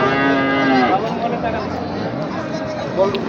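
Cattle lowing at a busy cattle market, with tall Haryana and Nepali breed bulls on sale; a long moo at the start, then a shorter low later, amid steady crowd babble and nearby talking voices.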